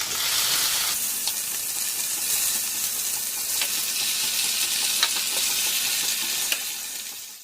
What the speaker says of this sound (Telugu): మిర్చి ఫ్రై అయిపోయి ఇప్పుడు యాడ్ చేసుకుందాం టమాటో